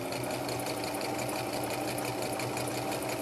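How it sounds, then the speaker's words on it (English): A sewing machine stitches fleece fabric for a neck warmer, running in a steady, continuous rapid whir that holds at an even, close level the whole way through. "you want the machine to do all the pulling, but you don't want it to pull and stretch the fabric while it's sewing it though"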